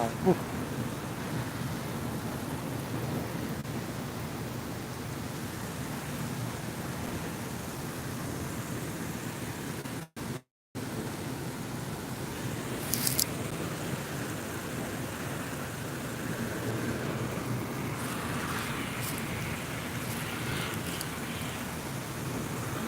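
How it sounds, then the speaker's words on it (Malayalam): Steady, dense heavy rain in Dubai roars throughout, a broad hiss with low rumbling underneath, briefly cutting out partway through before continuing unchanged. "വളരെ ഭയങ്കര മഴയാണ് കേട്ടോ"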